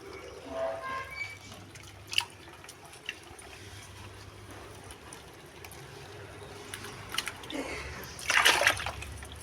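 Ground fertilizer paste for garden plants is stirred into water, giving soft intermittent sloshing and dripping, with a louder splash toward the end. The sound is fairly faint overall.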